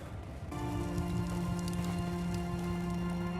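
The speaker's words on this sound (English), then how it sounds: "Magically, all that is on that side is hail." Hail falls in The Fidelio Incident video game, starting abruptly and then holding as a dense, steady patter over a low humming drone, with no voices.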